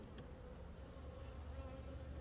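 A steady, close buzz of honey bees fills a Layens hive, a dense low drone without pause or voices.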